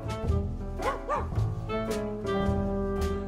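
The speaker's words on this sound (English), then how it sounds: "they even got a barking theme behind" Dog barks and yips sound in quick repeated bursts over a steady tonal musical backing in the soundtrack of an automatically generated movie of dog photos, fairly loud and continuous.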